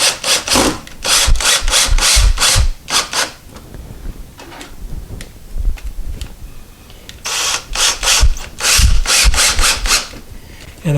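An electric screwdriver drives a screw into a door lock in short, loud, close bursts of rapid rasping pulses, with quieter handling and rubbing noises between the two main runs.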